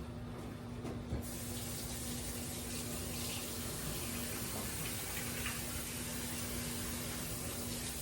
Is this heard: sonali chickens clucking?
no